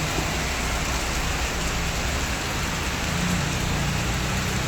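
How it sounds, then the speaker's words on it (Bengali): Heavy rain pours steadily beside a highway, a dense, unbroken roar of drops hitting surfaces close by, with no voices. "এখন দিয়েছে প্রচুর বৃষ্টি,"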